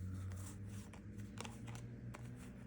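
Tarot cards being shuffled by hand, a soft, quiet riffling and slipping of card stock in a few brief bursts over a low steady background hum, with no talking.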